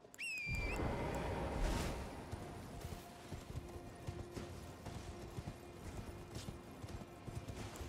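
Rapid hoofbeats of a galloping horse in the video game Elden Ring, steady and continuous, with a brief high whinny-like call at the start and no talking.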